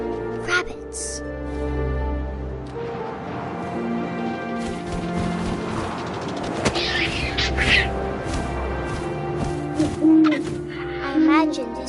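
An owl hooting in the game What Remains of Edith Finch, several soft calls over wind and layered game ambience, with a voice speaking over much of it.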